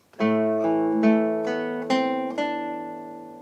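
A bar of Beethoven's Für Elise on acoustic guitar: six plucked notes in a gentle arpeggio, each ringing into the next, close and clear with no voice.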